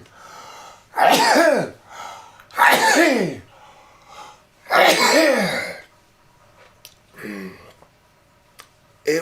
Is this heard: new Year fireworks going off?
no